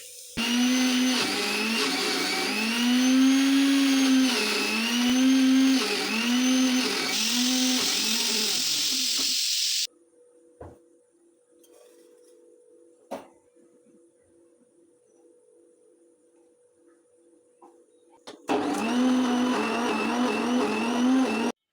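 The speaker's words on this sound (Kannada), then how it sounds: "ಸೊ ಬನ್ನಿ, ಇವಾಗ ನಾವು ಇದನ್ನು" A mixer grinder whirs loudly while grinding fresh plant leaves into a paste, running for about ten seconds, stopping into near silence, then starting up again for a final burst.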